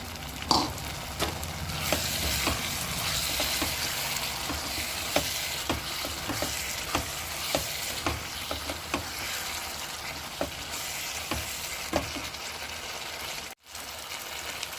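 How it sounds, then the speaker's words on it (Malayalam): Kashmiri dum aloo potatoes sizzle in oil in a pan as ground masala is stirred in, a steady frying hiss punctuated by regular spoon scrapes and taps roughly every half second, briefly cutting out near the end. "ഇനി നമുക്ക് ഈ പൊടിച്ച് വെച്ച മസാല കൂടിയിട്ട് മിക്സ് ചെയ്യാം."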